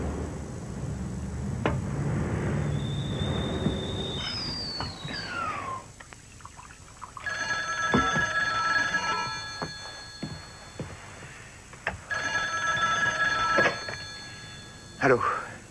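A telephone rings in two separate bursts of shrill trilling in a French drama film, with voices and background movement between the rings.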